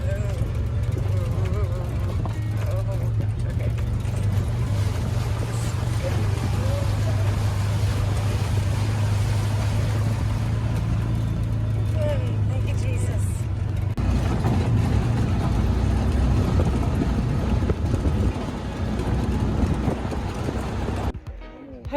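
ATV driving slowly over a rocky trail on a gusty day near Yellowstone: a continuous loud engine drone with wind buffeting and rattling jolts, with talk running through much of it.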